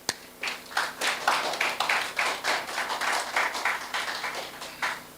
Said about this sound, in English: Please join me in giving him a round of applause.